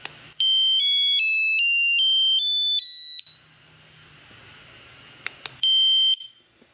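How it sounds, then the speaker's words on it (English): Loud, piercing golf cart alarm siren at its lowest sensitivity setting, stepping rapidly through a repeating high-pitched pattern, then a pause with faint rustling and clicks before the shrill pattern briefly returns. "That super high pitch is a low sensitivity."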